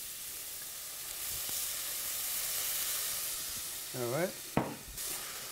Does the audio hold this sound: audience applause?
no